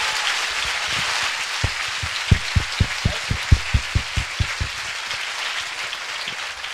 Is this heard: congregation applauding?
yes